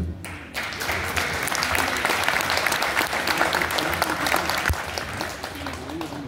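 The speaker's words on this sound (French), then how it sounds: "Et moi, j'aimerais bien vous applaudir." A large audience applauds, with dense, sustained clapping that is steady and fairly loud and runs through the whole stretch. Crowd noise fills the background.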